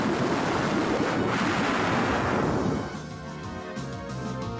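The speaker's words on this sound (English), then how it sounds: "Tsunami, our ultimate water spell." The Tsunami water spell in the Final Fantasy video game unleashes a loud, dense roar of crashing surf for about three seconds, then drops away to a quieter wash.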